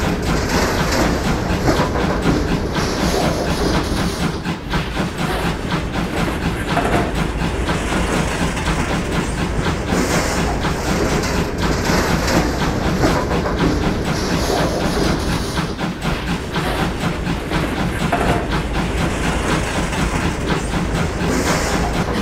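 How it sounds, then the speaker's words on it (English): A train ride along the former Kew line, heard as continuous rolling rail noise with steady clickety-clack wheel beats over the joints, loud and close throughout. "Let's take a train ride on the Kew line."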